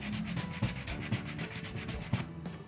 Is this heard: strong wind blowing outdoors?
no